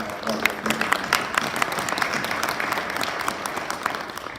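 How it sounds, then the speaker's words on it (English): Audience applause for Commissioner Price at a regional inland port symposium, a dense steady wash of many hands clapping in a hall, fairly loud and sustained throughout with no talk over it. "I just want to give a good applause for Commissioner Price."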